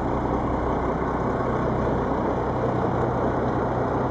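A 1982 Cummins 290 turbo diesel engine idles outdoors with a steady, loud, low rumble and an even mechanical drone that holds unchanged throughout, with no voices.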